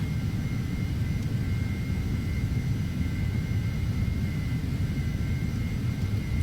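Twin jet engines of a Phenom 300 business jet climb after takeoff in Prepar3D flight simulation, a steady, loud low rumble with a faint high whine running throughout and no voices.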